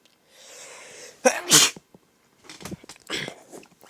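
A single loud, close sneeze, a brief indrawn breath and then a sharp burst, followed by a few faint rustles and breaths indoors.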